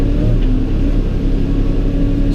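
A Kubota L3560 tractor engine drones with a steady, loud low rumble continuously throughout while driving, with no voices.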